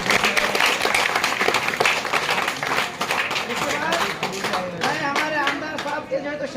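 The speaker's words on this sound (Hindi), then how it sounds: "उनके लिए ताली बजाते हैं" Audience at a neighborhood political gathering with a local MLA claps loudly and densely for a hoped-for councillor, the applause steady throughout while voices talk over it, growing clearer toward the end.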